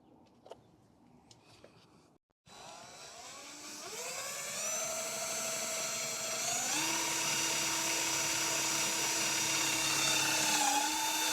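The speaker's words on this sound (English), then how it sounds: "we're gonna drill a hole there with a step drill bit and make the corner first" A step drill bit bores a hole in an S14 Zenki front lip fitted to a CB7 Accord. After a quiet moment, a loud, continuous high whine starts and climbs in pitch in steps as the bit cuts deeper.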